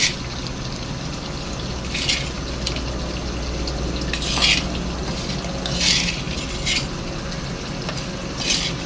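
Hilsa fish pieces go into a pan of fried ash gourd, giving a steady close sizzle with scraping stirs and occasional brighter hissing bursts.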